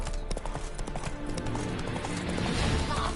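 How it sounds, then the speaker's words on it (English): Horse hooves clip-clop steadily in the video game The Witcher 3, a brisk, even rhythm of close, loud hoofbeats on the ground under a dense background of game ambience. "Spooking my horse."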